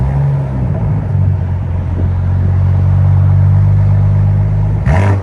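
A 2021 BMW M340i with a 3.0L turbocharged inline-six and straight-piped exhaust idles with a loud, steady, deep rumble close by, then gives a brief throttle blip near the end.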